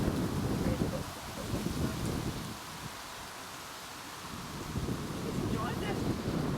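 Strong wind buffets the microphone outdoors at a horse stud farm, loud rumbling gusts that ease for a moment and then rise again.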